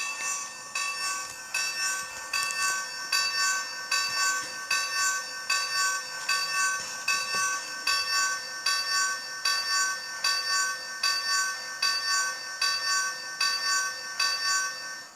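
A Lionel LionChief James the Red Engine toy train rings its bell over and over in a steady, even rhythm. The chimes are clear and close, with no talking.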